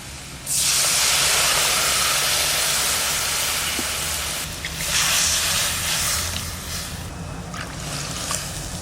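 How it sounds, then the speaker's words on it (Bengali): Water with mustard paste and turmeric boiling hard in a pan, a loud continuous rushing hiss and bubble that holds steady to the end, no voices. "জলটা দেখেন কি সুন্দর ফুটে গেছে"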